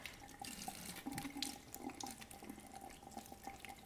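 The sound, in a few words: rinsing dried guajillo peppers under running tap water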